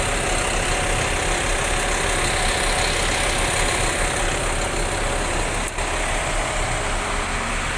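A Scania K310 double-decker intercity bus engine idles loud and close, a steady rough diesel rumble holding evenly throughout with no talk over it.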